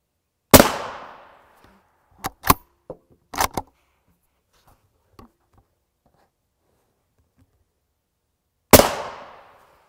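Two sharp, loud gunshots fired at Hesco L210 body armor, one near the start and one near the end, with a few smaller metallic clanks and impacts in between and no talk.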